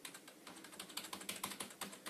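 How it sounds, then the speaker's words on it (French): Soft, mushy keys of an ordinary computer keyboard clicked in quick succession, roughly a dozen close, muffled taps spread irregularly over two seconds with no talking. "Ça fait le bruit d'un clavier normal quoi, hein. C'est un truc tout mou."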